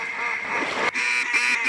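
A crowd of ducks quacking in a dense, close chorus out in the field, the overlapping nasal calls running continuously at fairly high volume.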